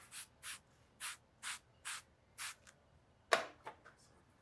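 Oil or water sprays onto steak grill grates in six short, evenly spaced hissing bursts, followed by a sharp clack and a few fainter sprays, all close and without talking.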